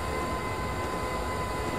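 A train in Train Simulator 2016 rumbling along, a continuous, even low drone with a faint steady tonal hum and no breaks.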